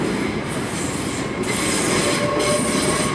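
A TfL Rail service pulls out of London Paddington, wheels squealing on the rails over a steady rolling rumble, close and continuous with no voices.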